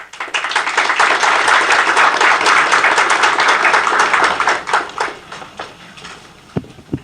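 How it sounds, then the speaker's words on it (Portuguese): A lecture audience gives a speaker a warm welcome with dense, steady applause for about five seconds. The clapping then thins into a few scattered claps before it stops. "Senhoras e senhores, vamos receber com muitos aplausos Beto do Vale."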